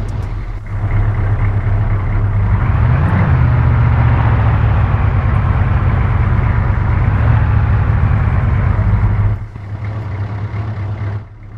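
A game vehicle drives into a rearm, repair and refuel trigger, its engine a steady, loud drone with a heavy low rumble that dips briefly near the end.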